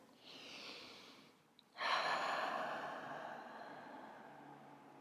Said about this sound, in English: We're going to take a nice cleansing breath.